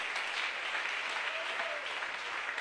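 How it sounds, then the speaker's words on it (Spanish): Dense, sustained applause fills a church as the congregation claps for Jesus Christ during a morning service, an even rush of many hands with no voices on top. "Aplauso al Señor Jesucristo esta mañana."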